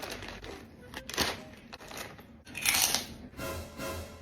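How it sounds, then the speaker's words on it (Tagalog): Crunchy bites into a spicy fried squid snack crackle up close in a few sharp bursts, with quieter rustling and chewing between them and a faint voice in the background. "Ay, krupit limang one ay spicy fried pusit. Oo, malutong nga yan."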